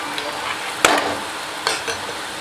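Boondi batter drops fry in hot oil for Diwali boondi laddu, a steady sizzle with a sharp metallic clink near the start and a couple of lighter taps later.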